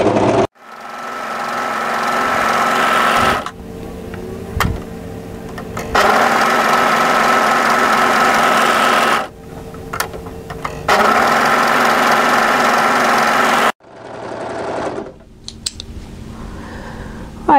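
An overlocker runs in bursts while stitching and trimming knit tee fabric, with several loud, close, sustained motor runs of a few seconds each, separated by short quiet pauses and small clicks.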